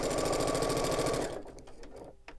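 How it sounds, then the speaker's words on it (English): A sewing machine stitches steadily along a marked line on a foundation paper piecing project at a short stitch length, a fast, even mechanical whir close up for just over a second before it stops and leaves quieter handling sounds. "all I did was just sew right along the line"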